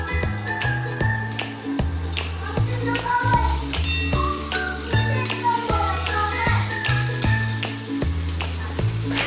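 Zunka sizzles in a pan as coriander is stirred in, with loud continuous frying and a regular rhythm of spoon scrapes and taps against the pan.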